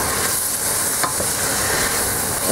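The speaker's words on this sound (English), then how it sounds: "as you can hear, the frying has subsided to a simmer" Onions and chunky garlic pieces fry in a pan for a pot roast goulash, giving a steady, close hiss and sizzle that has settled to a simmer, with one faint clink partway through.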